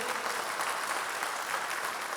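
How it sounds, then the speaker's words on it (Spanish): A church congregation applauding together, a dense, even wash of many hands clapping, heard from a distance and fairly quiet, with no voices standing out. "Denle un aplauso a Dios"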